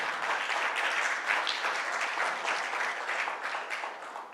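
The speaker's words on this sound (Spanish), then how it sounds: "denle un aplauso al Rey." Congregation applauding in a church service, a fairly faint but dense and steady patter of many hands clapping with little else present.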